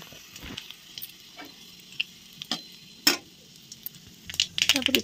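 Panch phoron and two dried red chillies sizzle in hot oil in a home kitchen, a quiet crackling with scattered sharp pops that grow busier toward the end.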